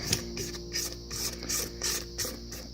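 A spatula scrapes the sides of a bowl of lemon cake batter in a series of short, soft rasping strokes, close and quiet, with no talking.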